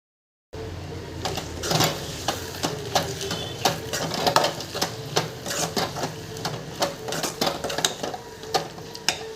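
Repeated metallic scrapes and clinks of a utensil stirring potato masala in a pan, steady and close, with no voices.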